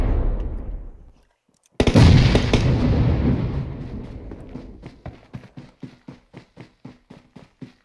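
A grenade blows up in the battle-royale game PUBG Mobile: after a moment of near silence comes one loud, booming blast with a long rumbling decay, followed by a run of regular, crisp footstep-like taps.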